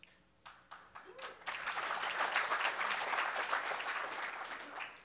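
Applause breaks out from a conference audience, starting with a few scattered claps and swelling into a sustained, fairly distant round that holds for several seconds before easing off.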